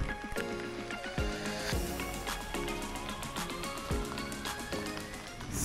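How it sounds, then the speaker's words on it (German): Rain falling in a park, with a steady patter of drops striking nearby surfaces, crisp and close, carrying on without a break. "Weil es soll ja jetzt ungefähr noch eine Dreiviertelstunde regnen."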